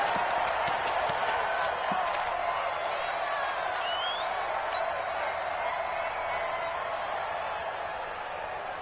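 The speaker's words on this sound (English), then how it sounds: "This crowd is ready as their guys get set to match up between the Green Bay Packers and the Dallas Cowboys." Video-game stadium crowd noise for a Green Bay Packers versus Dallas Cowboys NFL match, a steady broad murmur and cheer with a few sharp thumps, while a commentator talks over the top.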